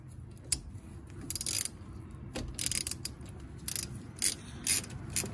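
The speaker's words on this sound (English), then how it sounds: "we're going to get a 10mm socket and disconnect the brake line from where it attaches" A ratchet with a 10mm socket loosening a brake line nut on a Porsche Boxster S, with quick bursts of metallic clicking separated by short pauses, close and crisp.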